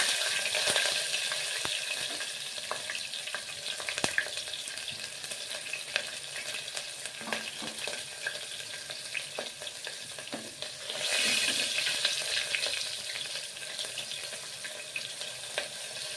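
Dried red chilies, a green chili and curry leaves fry in hot oil in a pan, a steady close sizzle with crackles and stirring scrapes that swells louder partway through.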